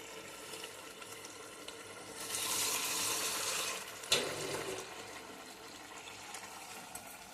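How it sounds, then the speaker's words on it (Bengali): Water is poured into a pot of cooking lentils and pointed gourd, a soft, steady splash lasting about two seconds, then a brief clunk and quieter trickling against faint background hiss. "আমি আরেকটু জল দেবো।"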